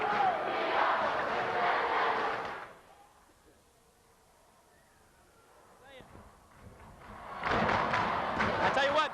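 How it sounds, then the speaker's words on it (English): A basketball arena crowd at a high school playoff game erupts in loud roaring cheers, drops to a murmur for several seconds, then bursts into a roar again near the end. "the crowd getting into this game like I've never seen before"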